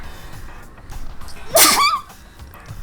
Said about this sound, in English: Oh my god, I'm gonna sneeze.